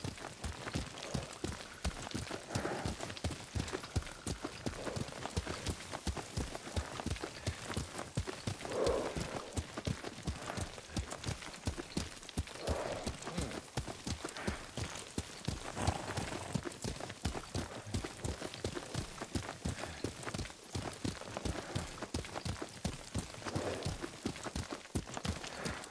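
Rhythmic hoofbeats of a galloping horse in the samurai game Ghost of Tsushima, a continuous fast clip-clop pounding steadily and loudly with no pauses.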